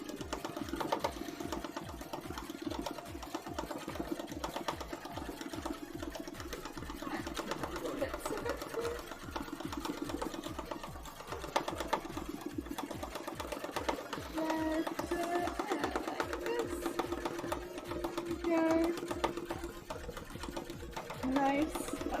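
A sewing machine stitches fire embroidery in red thread, running in a steady rapid mechanical rhythm of needle strokes close up for over twenty seconds, with a voice speaking softly over it at times.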